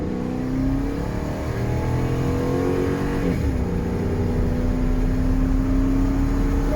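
A 2007 Dodge Ram 1500 pickup with a 4.7-litre V8 accelerates, heard from inside the cab as a steady engine drone that rises in pitch, drops briefly at a gear change, then climbs again.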